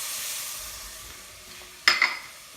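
A steady soft sizzle from a hot pan rises into a short, louder burst of crackling as chopped celery goes in with onions, then settles back to frying.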